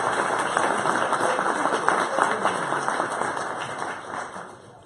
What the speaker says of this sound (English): Give him a big round of applause as he comes up here.